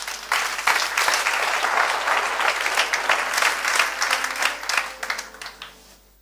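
Church congregation breaks into sustained, loud applause acclaiming the Lord, a dense wash of clapping that thins out toward the end.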